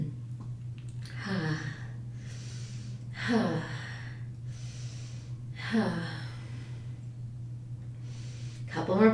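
Slow, audible breaths drawn in and let out roughly every two to three seconds while holding a yoga pose for foot therapy, close and soft over a steady low hum.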